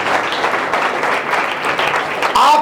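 Audience clapping at a church sermon, a dense sustained burst of applause from a crowd, loud and close, swelling slightly toward the end where a voice briefly rises above it.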